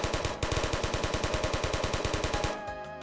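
Rapid automatic gunfire from a weapon in a Babylon.js browser game, roughly twenty-five evenly spaced loud shots in a steady burst, ending with a brief ringing tail.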